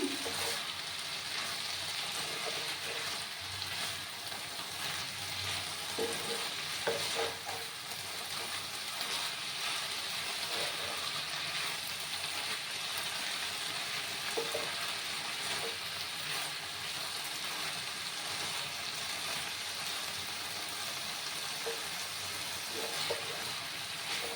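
Small fish and banana stem frying in a pan, a steady close hissing sizzle with occasional soft scraping from stirring, running on its own without talk.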